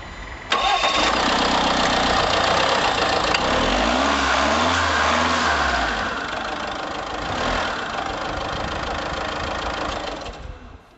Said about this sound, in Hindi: तो चलिए इंजन का आवाज़ किस तरह होता है चलिए सुनते हैं।